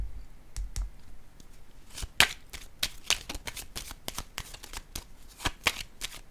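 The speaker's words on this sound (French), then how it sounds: "Je vais déposer une carte sur celle-ci, la plus jeune." Playing cards are handled and laid down during a card reading, with a quick series of crisp flicks and slaps close up.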